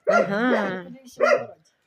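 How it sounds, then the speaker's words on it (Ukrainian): A dog barks close by, first a long drawn-out bark and then a shorter one after a brief pause, loud and clear against a quiet background. "Та не гавкай ти, ні. не гавкай"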